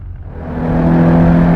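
A Subaru Legacy wagon on a race track, its engine rising in a steady droning revving pull under acceleration, heard close from inside the car with no talk.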